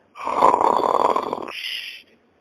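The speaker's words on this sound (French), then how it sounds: "il continue de ronfler comme ça là" A sleeping man snores loudly and close by, one long rasping inhalation followed by a softer, higher wheezing exhale.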